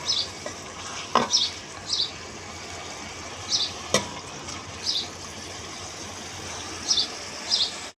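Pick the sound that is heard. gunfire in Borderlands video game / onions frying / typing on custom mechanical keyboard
onions frying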